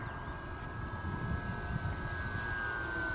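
An Arrows 1400mm Sky Cruiser RC plane with flight stabilization flying on a maiden flight, a steady electric motor whine droning at moderate distance with no breaks, no talk over it.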